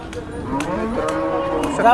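A bull at the Sangola cattle market lows in a long, deep drawn-out call that fills the whole moment, with a few faint knocks and clatters in the background.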